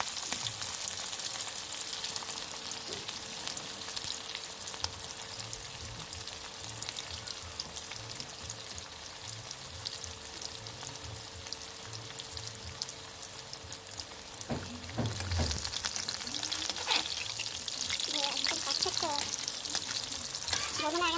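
Hilsa fish pieces lightly frying in oil, a steady close hiss and crackle throughout, growing louder and busier near the end as the pieces are moved about.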